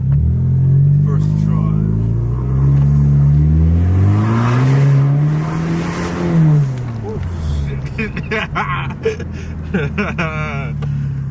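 A retuned Honda Civic engine with a new intake revs repeatedly, its pitch rising and falling in loud, throaty sweeps close by, then settling to a rough idle as a voice speaks.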